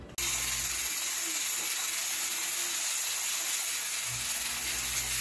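A pressure cooker on the stove hisses steadily with steam, a continuous loud broadband hiss with faint mechanical rattling, alone with no talk.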